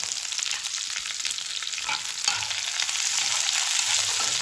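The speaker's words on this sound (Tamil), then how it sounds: "வெங்காயம் கிண்டல் பண்ணுறாரு" Thinly sliced onions being stirred and fried in a pan for potato masala, a dense steady sizzle growing slightly louder, with faint scraping stirs up close.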